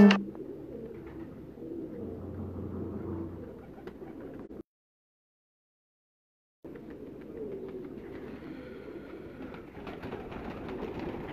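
Pigeons kept on a rooftop loft in Faisalabad coo low and steadily over a busy, noisy background, with a brief total dropout midway before the cooing and ambient clatter resume.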